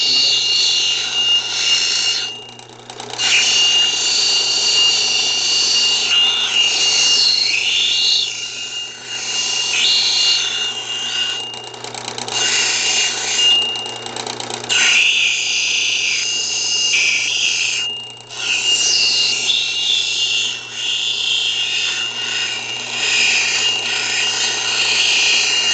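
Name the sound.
grinding edges off a stone to make a marble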